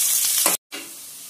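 Onions frying in a pan give a steady close sizzle with stirring, broken by a brief silent gap before the hiss resumes more softly.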